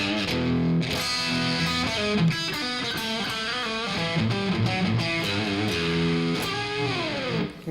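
An electric guitar plays a short blues lick in a distorted tone, with sliding notes and a steady, moderately loud phrase throughout, no voices.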